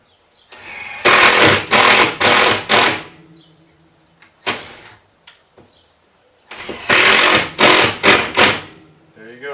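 A power drill drives screws into a wooden block set against old sheetrock by a water heater, in two loud bursts of stuttering, whirring motor, with short pauses and a few knocks between them.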